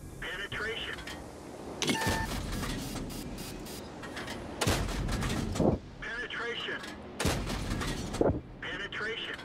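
Heavy tank cannon fire in World of Tanks: several loud, sharp blasts with ringing tails at irregular intervals, over continuous engine rumble and mechanical clatter.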